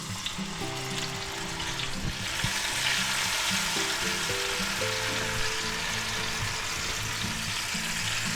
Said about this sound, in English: to that we're going to add 1 tablespoon of minced garlic.